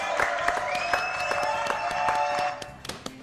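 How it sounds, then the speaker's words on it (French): A French TV talk-show studio audience claps steadily and fairly close for a few seconds, with a faint sustained tone running underneath. "Applaudissements pour Ophélie."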